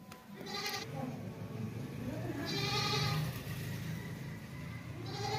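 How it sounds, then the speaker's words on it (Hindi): A heavy, pregnant long-eared Makhi Cheeni goat on a farm bleats three times, in loud, wavering calls at the start, middle and end, over low background noise. "लंबे कानों वाली नस्ली बकरी है माशाल्लाह से, बहुत ही हैवी किस्म की"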